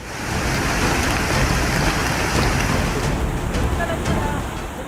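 Heavy monsoon rain in the Maharashtra and Belagavi region, a loud, unbroken roaring wash of falling water that holds steady throughout.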